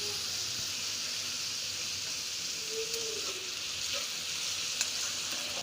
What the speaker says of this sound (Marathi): एक पाच मिनिट आपण कांदा परतून घेणार आहे थोडेसे मीठ जेणेकरून कांदा लवकर परतवला जातो